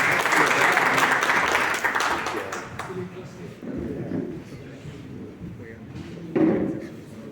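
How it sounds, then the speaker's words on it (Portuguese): An audience bursts into loud, dense applause welcoming Professor Teodato onto the stage; the clapping lasts about three seconds, then fades into murmuring crowd noise and a few thumps. "Uma salva de palmas"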